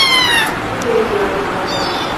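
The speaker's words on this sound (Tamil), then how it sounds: "மக்களை இது 1வது பூனைக்குட்டி" A young kitten gives a few high, thin meows, one at the start and another near the end, close and fairly loud over a steady background hiss.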